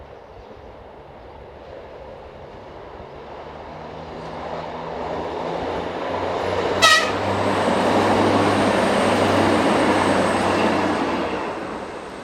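Diesel multiple unit 4187 rolls past on a single-track line, its rumble swelling steadily, with one short horn blast midway before the engine and wheel noise hold loud and close.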